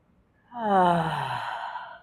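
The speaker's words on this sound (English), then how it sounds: "take a couple more deep breaths" A single deep breath during a yoga session: a soft intake followed by a long, audible exhale that swells and fades, close and alone with no talking.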